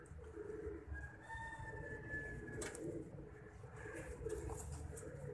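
Pigeons cooing faintly outdoors, soft low throaty calls repeating under steady background noise, with a brief higher whistling tone and a distant clatter partway through.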